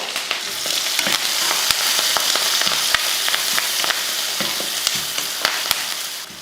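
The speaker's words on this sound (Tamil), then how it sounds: "வெங்காயம் இந்தளவுக்கு வதங்கினா போதும்" Onions sizzle steadily in hot oil with mustard seeds and curry leaves, a dense crackling hiss with occasional sharp pops and spatters, close and fairly loud.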